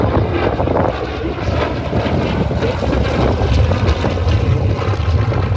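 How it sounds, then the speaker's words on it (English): Chinook helicopters take off at a demonstration, a loud continuous roar of rotors and engines filling the air close by, with no talk. "Here come the Chinooks. We got the Chinooks taking off."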